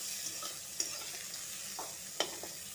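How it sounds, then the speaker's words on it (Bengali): Cashews and raisins frying in oil for fried rice, a quiet, steady sizzle broken by a few light clicks and scrapes of a spoon stirring the pan, with no voices. "কাজু কিশমিশগুলো ভাজা ভাজা হয়ে আসবে, কিছুক্ষণ নাড়বো।"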